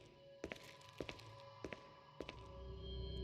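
Footsteps of a character walking slowly in Resident Evil 3 while carrying volatile nitro fuel, four evenly spaced thudding steps, close and clear over a low game ambience, with no talking.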